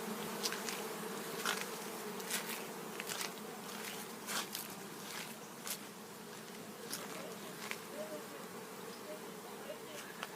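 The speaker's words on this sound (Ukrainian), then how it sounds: "Бджола ще на крилі" A steady drone of many bees buzzing in flight around a beekeeping hut, with individual insects zipping close by now and then, no talking.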